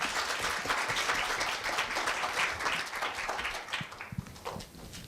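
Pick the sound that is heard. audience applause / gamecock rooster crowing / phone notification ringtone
audience applause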